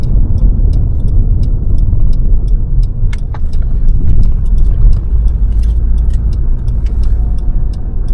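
A car driving on a road during a driving test, heard from inside the cabin as a loud, steady engine drone and road rumble that carries on unbroken with no talking.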